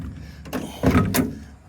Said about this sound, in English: One final test is to give us the door close test.